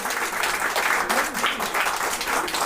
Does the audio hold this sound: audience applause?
yes